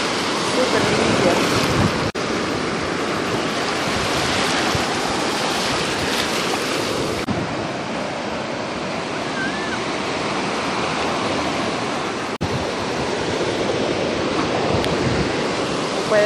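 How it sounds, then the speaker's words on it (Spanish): Ocean surf rolls onto the beach at South Padre Island, Texas, a loud, continuous wash of breaking waves with gusts of wind buffeting the microphone throughout. "Tienen de venir a South Padre, que es una playa hermosa, limpia, limpia."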